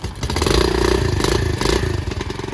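A pit bike motorcycle engine runs close by with a loud, rapid, throbbing idle and slight rev swells, clattering steadily throughout.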